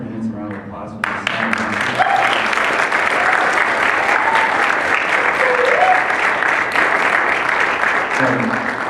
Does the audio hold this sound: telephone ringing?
no